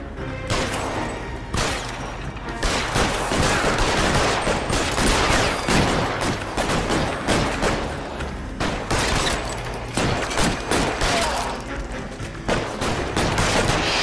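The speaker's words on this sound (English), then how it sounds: "Good old shootout." Rapid gunfire rattles through a shootout in the video game L.A. Noire, dense overlapping shots and bursts repeating loudly and continuously with barely a pause.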